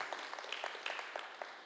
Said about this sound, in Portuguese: Você pode aplaudir, sim. Pode aplaudir.